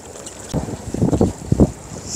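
Wind buffets a fishing boat out at sea off Muchangpo harbor, a steady roar with gusting rumbles and a few louder bursts against the microphone, fairly loud and close.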